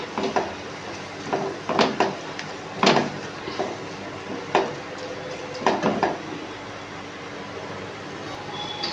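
A spoon stirring egg curry in a pan, with a string of scraping, clattering strokes at irregular intervals over a low kitchen background, with no talk.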